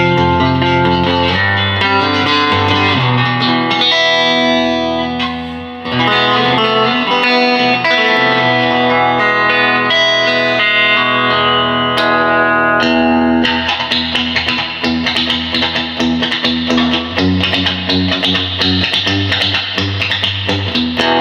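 An electric guitar plays sustained chords through a vintage Fender Princeton Reverb amp with reverb at 10, drenched in a long, splashy spring reverb that lingers and blurs the notes together.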